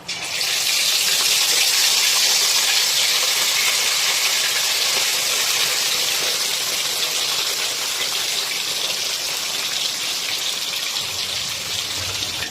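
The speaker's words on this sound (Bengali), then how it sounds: "এবারে বাকি যে 3টে পিস রয়েছে সেটাকে আমরা ওই একইভাবে ভেজে নেব।" Pieces of katla fish fry in hot oil for a Bengali kalia, a steady, loud sizzling hiss that runs unbroken throughout with no voices.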